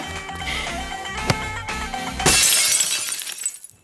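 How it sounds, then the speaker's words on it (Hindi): Glass shatters loudly over a busy background of music and noise, with a sharp crash followed by a sustained bright tinkling of breaking shards that fades out over a couple of seconds. "महीने में 12वीं बार कांच टूटा है"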